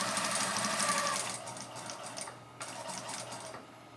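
A sewing machine stitches a fleece sherpa blanket at a slow pace, a soft mechanical whir fading toward a quieter backstitch near the end.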